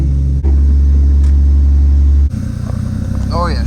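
A 300,000-mile Jeep Cherokee XJ runs on high idle after a cold start, giving a loud, steady low rumble that drops away near the end before a rougher engine note and faint voice-like sounds.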